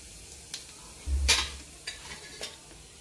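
Cumin seeds hit hot oil in a wok with one short, loud burst of sizzle and clatter, then faint scattered crackles and soft stirring taps in a quiet room.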